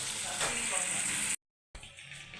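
Fish frying in hot oil in a home kitchen, a steady broadband sizzle that runs loud and even, cuts out briefly to silence, then resumes slightly quieter.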